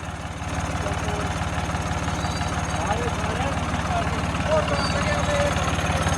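A John Deere 5310 tractor's diesel engine with a broken turbo chugs steadily at a low, rhythmic idle, close and constant throughout.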